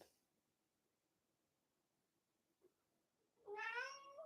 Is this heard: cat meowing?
yes